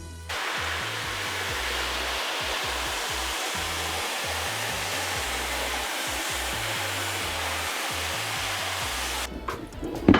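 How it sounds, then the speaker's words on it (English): A power washer or hose sprays steadily onto a screen printing screen being rinsed out, a loud continuous rushing hiss with low thumping pulses beneath, ending in a brief clatter. "So either using a power washer or just a garden hose, you're actually just going to rinse the screen"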